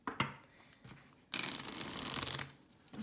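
A deck of oracle cards is shuffled by hand: a few light taps and flicks, then a dense papery riffle lasting about a second, close and fairly quiet, with no talking.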